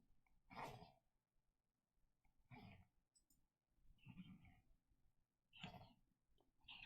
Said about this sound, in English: He's gonna sneeze.